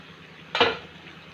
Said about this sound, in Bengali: তো আমি ঢাকনাটা আবার তুলে নিচ্ছি।